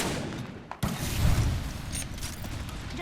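Gunfire in the video game Apex Legends: a sharp burst cuts in after a brief dip, followed by continuous rapid shots and booms that stay loud and close for the rest of the moment.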